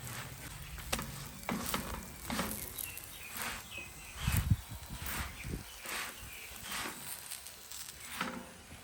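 An ajwain paratha cooks slowly in a pan over a low flame in a village kitchen, giving a soft, steady sizzle broken by intermittent scraping and stirring knocks, with faint bird chirps in the background.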